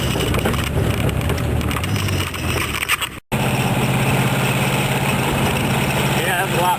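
A rat rod roadster's engine runs steadily while driving, a close rumbling drone with a brief dropout midway, and someone talking over it.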